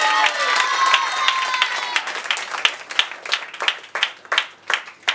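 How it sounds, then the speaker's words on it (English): Audience applause at an English-language role-play show, starting as a broad wash of many hands under a faint voice, then thinning into sharper, separate claps that fade and return. "Give a huge round of applause"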